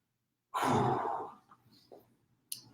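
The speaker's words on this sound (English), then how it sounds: "Take a couple deep breaths." One deep breath during a workout session. It is a single long, close exhale, like a sigh, followed by a softer, shorter breath.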